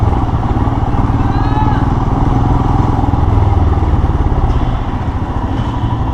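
Steady motorcycle engine drone while riding in second gear on an adventure or roadster bike test ride, loud and continuous with a low throbbing pulse and rough road rumble, no pauses.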